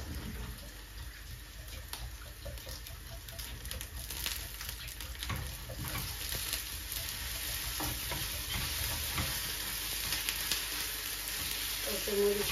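Chopped onion and green chili sizzle steadily in a frying pan with occasional stirring, a constant close hiss that builds slightly over time.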